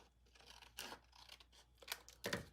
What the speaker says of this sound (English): I'm gonna flip this over and I'm gonna trim it.